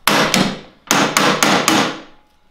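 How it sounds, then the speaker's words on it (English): A hammer strikes the lock on a toolbox several times, loud ringing metallic blows close by, two quick hits, a short gap, then four evenly spaced hits that fade out. "Just break it? I mean, not necessarily break it, just start hitting down on the lock."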